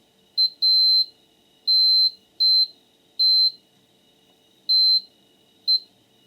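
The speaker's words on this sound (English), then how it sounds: "The multimeter is encountering low resistance across most of these clusters." A multimeter beeps on continuity as probes touch pins on a Cisco SG300 network switch circuit board: seven short, clear, high tones of uneven length with brief gaps, loud over a quiet background.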